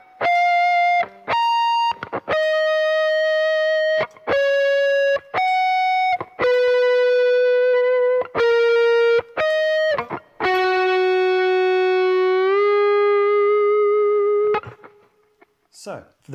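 An electric guitar with distortion plays the opening theme melody as four sustained phrases of clean, separated notes, with vibrato on held tones and a long final note that fades out.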